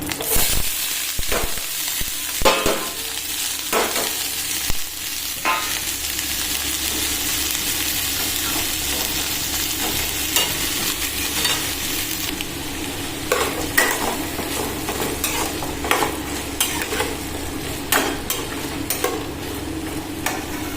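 Vegetables sizzle in a hot pan for fried rice as they are stir-fried, with steady frying hiss and repeated scraping and clacking of a spatula against the pan, loud and close, with no talking.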